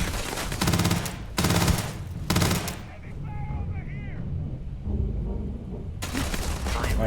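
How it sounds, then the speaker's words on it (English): Gunfire in Starfield, several loud bursts of rapid automatic shots separated by brief pauses, with quieter game effects and chirping tones in between and a final burst at the end. "There's someone shooting."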